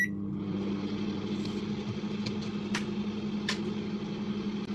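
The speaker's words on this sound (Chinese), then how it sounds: "现在咱们就打开微波炉试一下" A microwave oven runs with a large homegrown taro inside, giving a steady close-up hum with a few faint clicks.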